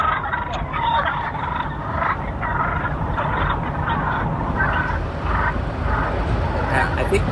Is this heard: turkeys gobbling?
yes